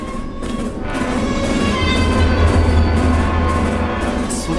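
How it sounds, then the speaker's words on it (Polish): A diesel train rumbles steadily through a tunnel in a video game, a dense, loud low drone with a constant roar that swells slightly midway and continues throughout. "Czemu tutaj spalinowe pociągi jeżdżą w tunelach?"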